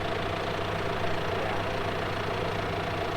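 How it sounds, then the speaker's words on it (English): A 130-horsepower John Deere tractor engine idles steadily, a constant low mechanical rumble with a faint knocking quality, close and alone without speech. "130 horsepower tractor, has every bell and whistle on it."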